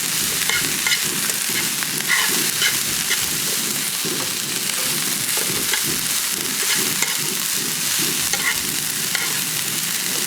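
Noodles for a copycat 'Ohana Polynesian Resort dish are tossed and stir-fried in a hot pan, with continuous loud sizzling and repeated rhythmic scraping and clattering of the utensil, close by and without speech.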